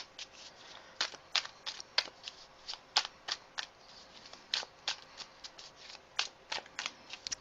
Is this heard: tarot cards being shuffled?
yes